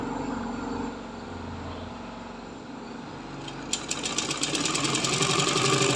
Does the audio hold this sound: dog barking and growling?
no